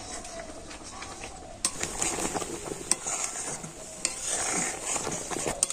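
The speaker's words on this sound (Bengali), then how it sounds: "দুধ আর বাদামটা কিন্তু একটু ফুটিয়ে নেব তবে কিন্তু কন্টিনিউ নাড়াচাড়া করতে হবে" Milk and almonds heating in a pan while a spoon stirs them steadily, giving repeated scraping strokes against the pan over a soft bubbling hiss that grows fuller after the first couple of seconds, close and fairly quiet, with no talking.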